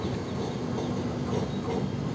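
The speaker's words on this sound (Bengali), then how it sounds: "আর আমাদের ট্রেন বারসই থেকে যা স্টার্ট করলো।" A passenger train pulls out of Barsoi station in North Bengal, heard from inside as a steady, dense rumble and rattle of the carriages, moderately loud and continuous.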